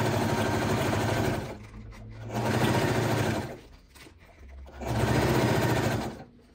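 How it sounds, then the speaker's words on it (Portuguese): Sewing machine stitching fabric bias binding, running in two long steady whirring bursts separated by a quieter pause, close and clear with no talk. "Bem costurando."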